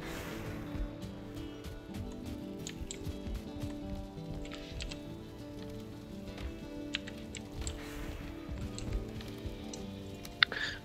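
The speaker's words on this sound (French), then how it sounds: "Oh non, il pleut." Steady rain in a video game pattering on a surface over a low, continuous tonal background, with occasional sharper drips and taps throughout.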